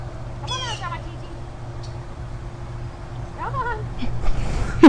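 A senior bobcat at a big cat sanctuary gives two short, rising meow-like calls between pauses, close by, over a low hum. People talk nearby.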